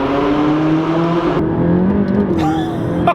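McLaren 570S accelerating hard after quick downshifts, its engine roaring loud and close before dropping away, then picking up again in a brief second surge.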